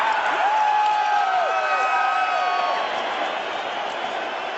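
A large stadium crowd roars in a sustained, dense wash of cheering and applause, with faint whistles rising above the noise.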